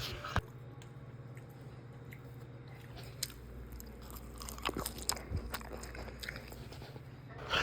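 Close, crunchy chewing of Dairy Queen fries, with irregular soft bites and squishes at a quiet level and no talk.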